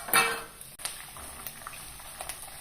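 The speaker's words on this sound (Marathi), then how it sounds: "खूप लगेच शेंगदाणे तळून घेऊया" Peanuts frying in hot oil in a kadhai for corn poha chivda, a close, steady sizzle with a loud burst at the start and small pops after.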